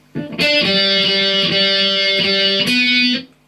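A distorted electric guitar plays a short riff of about six notes with a syncopated rhythm, loud and close, ringing out at the end.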